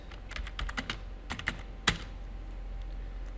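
Fingers typing on a computer keyboard while coding in C++, a run of quick clicky keystrokes that bunch up, then slow to a few scattered presses and a single louder tap, close and moderately loud with no speech.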